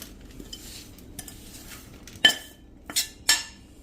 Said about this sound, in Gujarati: આ રીતે હવે આપણે એને થાળીમાં પ્રેસ કરી અને એકદમ સરસ પ્લેન કરી લેશું ચમચેથી કે વાટકેથી